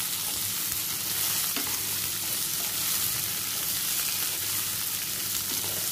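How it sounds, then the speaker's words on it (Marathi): Chopped water chestnut sautés in a pan for a fasting-day vegetable dish, producing a constant hissing sizzle with faint stirring clicks and no talking. "व्यवस्थित परतून घ्यायचं."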